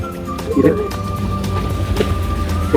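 Rain hisses steadily around a motorbike riding through a wet street, with a low engine drone and a sustained tonal hum underneath and occasional louder bumps.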